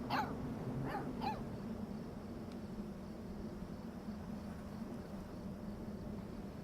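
A dog barking in the video game Life Is Strange 2 during a frisbee game outdoors, a few quick yips near the start over a steady low game ambience, then fading into background noise.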